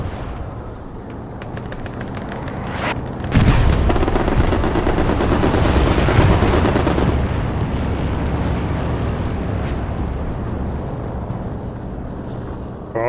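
Sustained gunfire and explosions fill a Halo multiplayer match, with rapid automatic bursts and a heavy blast-like surge after a few seconds, continuous and loud throughout with no talk.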